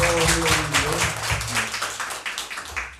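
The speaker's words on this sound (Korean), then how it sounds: "우리 어머님들을 위해서 한번 박수 한번 더 보냈으면 좋겠습니다" A church congregation at a Sunday service claps together, a crowded patter of hands that starts strong and gradually fades, with a few sustained voice tones underneath early on.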